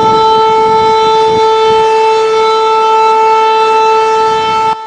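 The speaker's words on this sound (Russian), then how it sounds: "Сегодня в 11 часов 30 минут в городе объявили учебную тревогу с включением электросирен." A loud, sustained civil defense electric siren wails with a steady tone during a city drill, sounding continuously before cutting off abruptly near the end.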